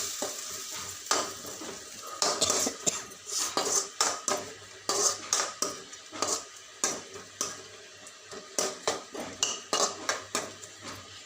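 Onions and ginger garlic paste sautéed in a pan, with rhythmic scraping stirs and metal spoon clinks repeating every half second or so over a steady close sizzle, with no one talking.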